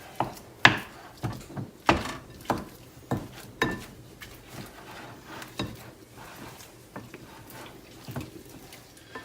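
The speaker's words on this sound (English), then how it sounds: "So I'm kind of chopping up the butter." Softened butter and ramps are chopped and worked together on a board, a run of sharp knife taps that start strong and spaced, then soften into quieter, irregular pressing and scraping.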